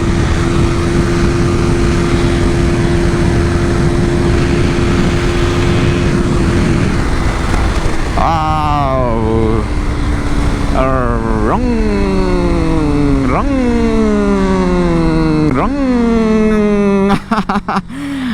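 A KTM RC 200 BS3 motorcycle engine drones loud and close, then revs repeatedly through a corner, each rising whine climbing sharply before easing off, with several quick throttle blips near the end.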